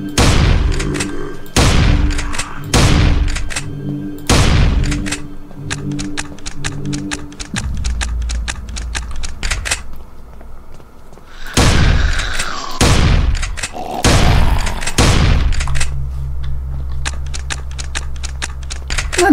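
Shotgun blasts in the game Invention II, loud repeated booming shots fired in quick bursts over several seconds, with a pause before more shots follow above a low droning game background.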